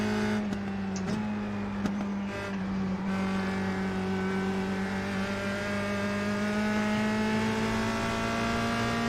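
Open-wheel USF2000 race car engine in the iRacing sim, a sustained high whining tone that climbs steadily as it accelerates, with brief shifts early on, loud and close with no talking.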